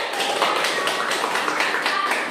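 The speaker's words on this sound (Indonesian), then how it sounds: "Pak Sabar berkata tepuk tangan." A class in a teaching-practice lesson claps hands in a quick, irregular burst of a few claps, moderately close and fairly soft, with no talk over it.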